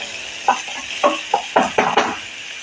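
Onion sautéed in tempered oil and stirred in a pan for a kadve val usal: a soft steady sizzle under half a dozen sharp spoon scrapes and knocks against the pan, spaced irregularly.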